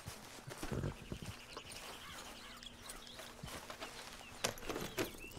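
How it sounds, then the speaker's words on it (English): Horse hooves clop in a Red Dead Redemption 2 town, with a few heavy thuds near the start and end over a steady low ambient bed and faint background chatter; no clear snort stands out. "Hey, get that horse out of here."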